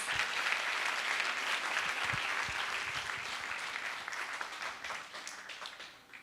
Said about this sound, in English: Let's give Tejashree another thunderous round of applause.